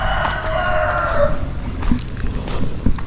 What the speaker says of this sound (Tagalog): Puro tilaok ng manok marinig.